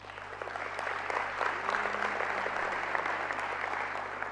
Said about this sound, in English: Could we give the leadership of Paraguay a round of applause?